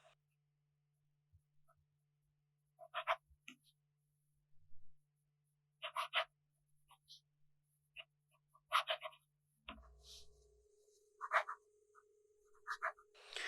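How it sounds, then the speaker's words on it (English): Fine-nib fountain pen with Pilot Bishamonten red ink scratching across paper in short, separate bursts of strokes, close and quiet, with a low steady hum underneath and no talking. "This really does look like it is a pink ink while writing with a fine nib on this paper"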